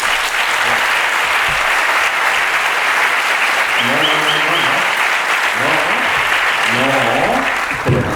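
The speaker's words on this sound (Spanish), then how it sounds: "Vamos a recibirlos con un fuerte aplauso." An audience at a film presentation gives loud, sustained applause to welcome guests, a thick, close wall of clapping throughout, with voices calling out and talking over it in the second half.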